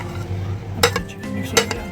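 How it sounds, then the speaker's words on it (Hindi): Chicken being mixed into finely chopped lentils in a bowl for shami kabab, heard as dull scraping and stirring with two sharp utensil clinks against the bowl, close and moderately loud. "इसमें अब चिकन मिक्स कर रहे हैं हम"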